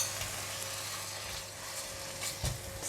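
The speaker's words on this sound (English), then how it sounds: "Stir fry until it's cooked." Minced pork with a little mixed sauce sizzles steadily in a hot pan as it is stir-fried for rice vermicelli, a continuous close frying hiss with a soft scrape of stirring near the end.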